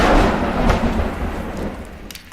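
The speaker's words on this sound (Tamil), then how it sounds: "இதே மாதிரி இன்னும் 2-3 தடவை இடி இடிச்சா நம்ம பில்டிங்கே விழுந்துடும்." Thunder in a storm booms loud and close over a steady rumble, with rain hissing underneath as the roar slowly fades.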